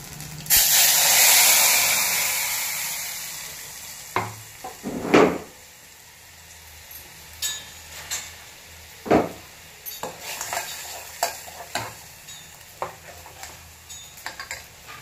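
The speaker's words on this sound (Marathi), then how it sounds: "आमटीला फोडणी देऊया." Tempering sizzles in a pan for a peanut-powder amti cooked alongside sabudana khichdi; a loud hissing burst in the first few seconds settles into scattered clinks and stirring taps against the pan.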